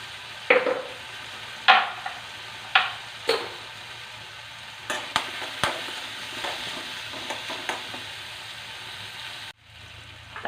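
Tomato with a pinch of salt sautéing in a pressure cooker pan, sharp scraping stirs and sizzle bursts repeating every second or so, close and fairly loud, with a brief quiet gap near the end.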